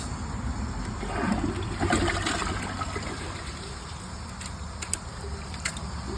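A Niagara Stealth toilet gives a steady rush and trickle of water as the tank refills after flushing paper towels, close and moderate in level with no talking.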